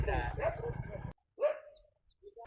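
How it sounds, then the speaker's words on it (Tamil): A voice speaks briefly, then a single short dog bark rings out nearby, followed by quiet. "நாய் வந்து என்னை பார்த்தாலே குலைக்குது"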